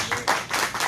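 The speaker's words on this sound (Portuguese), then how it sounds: "De uma salva de palmas para Jesus." A church congregation claps for Jesus at a Sunday school service, a brief burst of bright, uneven clapping with rising and falling bursts, fairly close and full.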